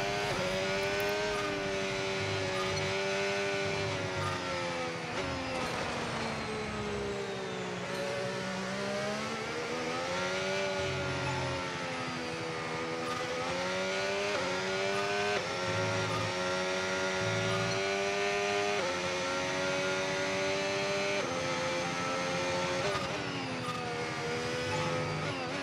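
Race car engines roar continuously on a figure-eight circuit, the pitch rising and falling as the cars accelerate and ease off through the laps, with the sound loud and close throughout.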